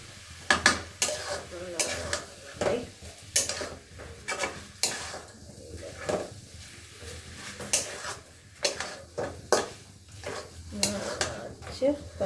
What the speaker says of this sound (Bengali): এইবার ভালো করে নাড়তে হবে, এবার একটু বাড়িয়েও দিতে হবে,